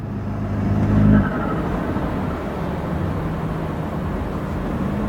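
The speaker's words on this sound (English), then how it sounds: "It shifts fast even in comfort." BMW engine with a fast-shifting transmission in comfort mode, a steady whirring drone that swells briefly then settles into an even, continuous hum, with no talk.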